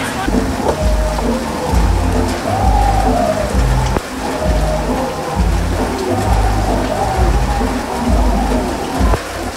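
Heavy rain pours down in New York on the Fourth of July during the Nathan's hot dog eating contest, a loud, steady outdoor roar with low rumbling underneath and scattered drops.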